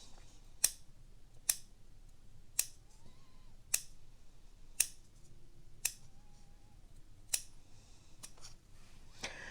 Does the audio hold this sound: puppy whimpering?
no